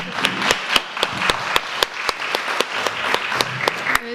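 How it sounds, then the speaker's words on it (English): An audience at an agricultural conference panel on cover crops claps for the panelists, with individual hand claps standing out sharply in a quick, uneven rhythm over a softer bed of group applause. "I want to give you guys a big round of applause"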